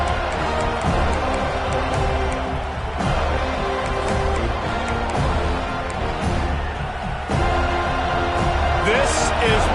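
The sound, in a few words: football stadium crowd cheering, FLA vs FSU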